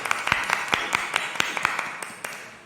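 Sparse, uneven hand claps at a prayer meeting, a dozen or so distinct sharp claps in an irregular rhythm that gradually fade out.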